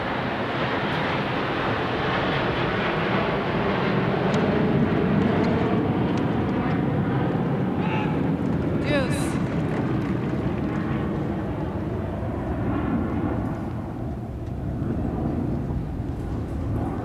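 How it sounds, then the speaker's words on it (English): A jet airplane climbs out overhead after takeoff from LaGuardia during a 1989 US Open tennis semifinal, a steady broad roar that fills the whole stretch at a constant loud level. "Obviously, the airplane's disturbing Martina. Take off out of LaGuardia."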